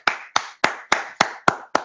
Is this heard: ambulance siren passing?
no